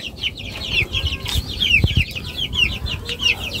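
Young Tiger chickens about 40 to 45 days old cluck and peep in a steady, busy chorus close by, with some shuffling and wing movement among the flock.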